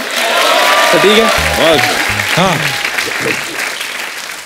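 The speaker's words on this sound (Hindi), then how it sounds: "तो जोरदार तालियां सलमान भाई के लिए और कटरीना मैम के लिए।" Comedy show studio audience applauds Salman and Katrina, loud sustained clapping with a voice talking over it partway through.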